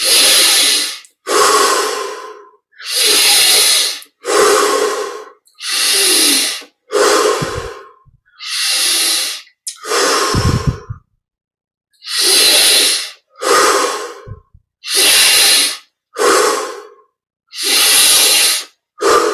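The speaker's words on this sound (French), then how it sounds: "On augmente progressivement l'amplitude de chaque respiration." Deep rhythmic breathing during a yoga meditation exercise: loud, close inhales and exhales come in steady bursts, around fourteen in a row, separated by brief silences.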